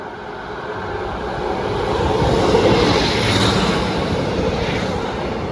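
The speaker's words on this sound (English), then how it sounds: "the next train to pass through will be a Class 150 at last" A Class 150 diesel train rumbles past a foot crossing on a grey day, a broad, loud roar that swells toward the middle and holds steady without any speech.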